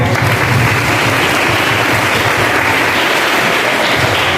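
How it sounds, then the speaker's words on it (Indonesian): Students in a school hall clap loudly together, their dense, steady applause continuing without pause throughout. "Tepuk tangan bagi perokok."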